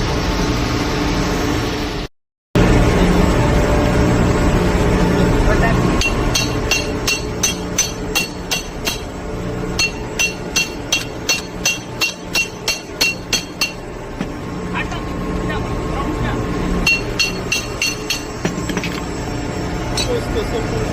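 A special tool is used to open the bowl of an Alfa Laval purifier, giving repeated sharp metallic clinks and knocks in rapid clusters under steady machinery hum, while someone talks throughout.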